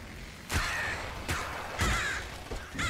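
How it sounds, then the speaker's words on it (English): Ravens caw in the video game Nuclear Throne, several loud harsh calls spaced about a second apart over quiet game ambience. "Gotta be careful of these birds though."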